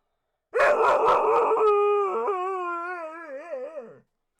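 A dog gives a long goodnight howl, starting with a few quick yips and rising into a wavering, sustained awoo that slides downward and fades, close and alone.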